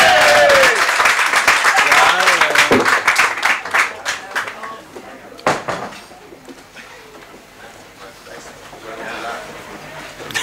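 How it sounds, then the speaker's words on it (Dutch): An audience at a poetry night at de Schouw in Rotterdam applauds a poet loudly and close by, the clapping thinning into scattered claps before someone begins speaking. "Mag ik een warm en daverend applaus voor Peer?"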